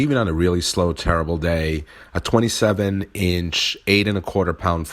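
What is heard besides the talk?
No distinct noise like a dog, phone or traffic.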